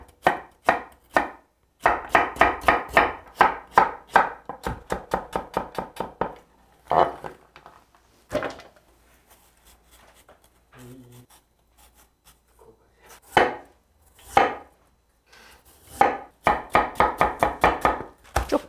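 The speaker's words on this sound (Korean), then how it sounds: "그래야 요것이 결대로 무가 썰어지게 됩니다." A kitchen knife chops radish against a cutting board while kimchi is made, in fast rhythmic bursts of sharp taps separated by pauses, close and clear.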